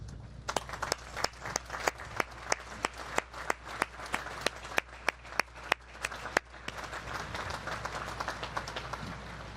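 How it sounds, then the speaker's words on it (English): An audience at the United States Naval Academy applauds distinguished graduates, with distinct sharp claps that ring out fairly far off in a large space before blending into a softer, steadier patter. "Please join me in recognizing and applauding these distinguished graduates."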